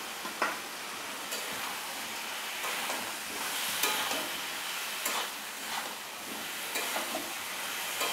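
Prawns frying with pointed gourd and potatoes in a spice masala, a steady close sizzle broken by regular scraping and stirring knocks from a spoon against the pan.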